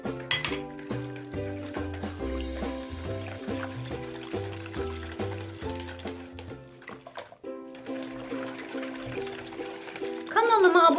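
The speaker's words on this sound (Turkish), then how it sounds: "Hepsini birleştirip iyice birbirine yediriyorum malzememi" Pastry dough ingredients and cooking oil being stirred together in a bowl, with steady rhythmic clinking and scraping of utensil against the dish, close and continuous, under background music.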